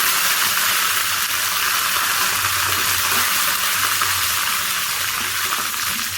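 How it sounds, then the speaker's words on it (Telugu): Cumin seeds and dried red chillies fry in hot oil with curry leaves for an Andhra buttermilk curry, giving a steady, dense sizzle that holds loud and even throughout, with no voices. "ఇప్పుడు జీలకర్ర, ఎండుమిరపకాయ వేసేస్తున్నాను."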